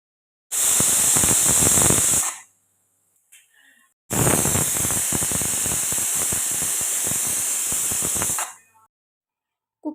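Two loud, long bursts of hissing steam from a pressure cooker whistle cooking chicken biryani, each lasting a few seconds, separated by a short quiet gap.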